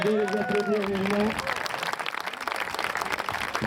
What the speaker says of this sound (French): Merci de les applaudir vivement.